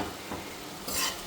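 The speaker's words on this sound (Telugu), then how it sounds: "ప్రాన్స్ అందులో వేసి ఒకసారి కలుపుదాము." Prawns stirred into a pan for a Nellore-style mango prawn curry, giving a short soft sizzle with a scrape of stirring and a brighter hiss near the end, close and fairly quiet.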